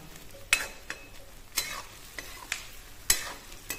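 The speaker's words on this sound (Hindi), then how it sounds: "इसमें डालेंगे आलू। आलू भी पकाएंगे जब तक ये लाल नहीं हो जाता हमारा आलू।" Potatoes frying in a pan for a potato and spinach dish, a steady sizzle broken by several sharp scrapes and clanks of a spoon stirring against the metal, close and fairly quiet, no talking.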